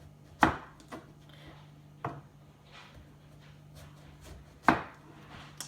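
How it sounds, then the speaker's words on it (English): A knife slices tatume squash thinly on a cutting board, with a few sharp, separate chops at irregular intervals over a quiet background, close and fairly crisp. "And then you will begin to thinly slice them."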